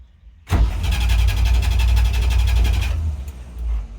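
A UAZ 469 engine cranks and catches abruptly, runs roughly for about two and a half seconds at a close, loud level, then cuts out, leaving a low rumble.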